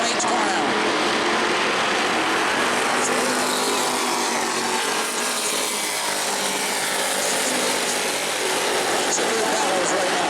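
Race cars circling the track at New Smyrna during heat races, a continuous loud engine roar blending several cars at once, with an announcer talking over it.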